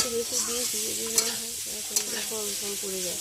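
Curry sautéing in a pot on a village kitchen stove, a soft sizzle with a couple of sharp spoon scrapes against the pot, beneath a tonal melody.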